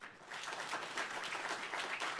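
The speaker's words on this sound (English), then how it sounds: "Can we just join in with a round of applause?" Dense round of applause from a conference audience after a biology keynote, steady and even for about two seconds with no talking.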